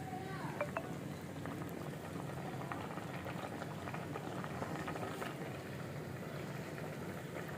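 Fish dal simmering in a pot with cloves: a low, continuous bubbling boil at modest volume, steady throughout with faint scattered clicks and background room noise.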